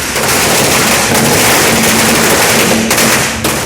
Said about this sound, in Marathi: नगरसेवकांनी फटाके फोडून जल्लोष केला